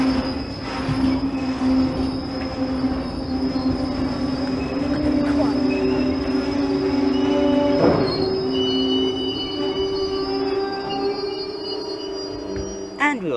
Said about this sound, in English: The freight train's now off.